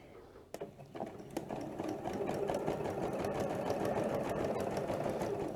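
A sewing machine runs steadily as it stitches binding onto the edge of a quilt, starting with a few short bursts and then holding a loud, continuous mechanical whir up close, with no talk.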